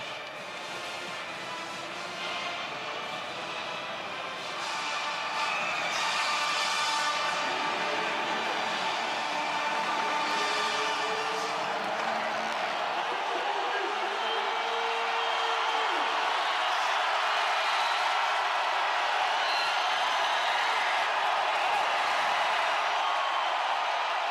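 A college football stadium crowd at Navy versus North Texas keeps up a loud, sustained roar during a 4th down play, a broad wall of noise that swells a little midway and holds steady to the end.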